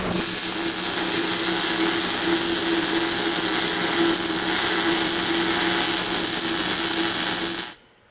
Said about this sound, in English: I'm going to cut this with a cutoff wheel